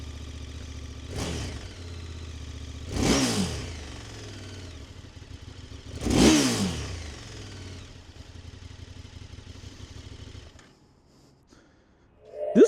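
A 2024 KTM 1290 Super Adventure S in sport mode accelerates, its large engine roaring close with three sharp rising revs through the gears, each dropping back to a steady drone, then the engine note falls away near the end.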